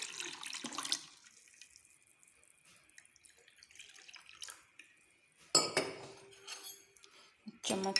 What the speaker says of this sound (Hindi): और अब हम इसके अंदर पानी ऐड करेंगे।